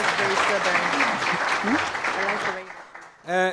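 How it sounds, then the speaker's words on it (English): Audience applause at a South African governance dialogue event, clapping heard under a speaking voice and fading out, followed by a brief voice at the end. "Round of applause, please."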